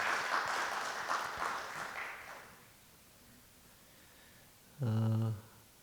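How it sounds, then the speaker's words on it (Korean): A church congregation gathered for a Sunday service applauds a missionary in a soft, distant wash of clapping that fades out after about two seconds, followed by quiet room tone and a brief low tone near the end. "우리 선교사님 힘내시라고 우리 박수로 한번 좀"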